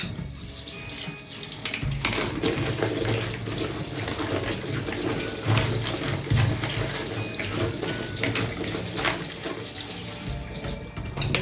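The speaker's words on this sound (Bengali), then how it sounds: "এখন আমি পেঁপেটা ধোবো।" Papaya is washed under a running tap. Water splashes steadily and loudly into a sink while the fruit is handled, with occasional knocks.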